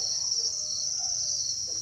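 Dense, steady chorus of many farmed crickets chirping at a cricket breeding farm, a continuous high shrill trill that holds evenly throughout with no talk.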